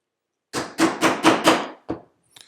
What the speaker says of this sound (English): Our stitching holes like this, we'll punch those